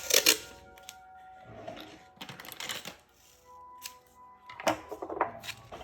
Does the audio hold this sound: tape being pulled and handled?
yes